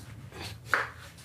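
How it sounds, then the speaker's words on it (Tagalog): A single sharp knife chop through papaya on a cutting board as the fruit is split into three pieces, one brief crisp strike over a faint background hum. "Gagawin natin tatlong hati."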